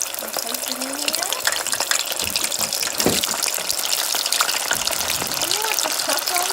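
Shrimp sizzle in hot oil with a dense, steady crackle and hiss that fills the whole span, loud and close with no voices.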